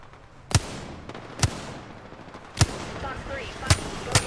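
Gunfire in a video game: five sharp, separate shots ring out at irregular gaps over a low background bed, with faint game sounds between them.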